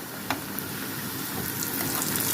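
A mock beef steak cutlet fries in oil and is turned over, giving a continuous close sizzle with a couple of faint clicks and no talk.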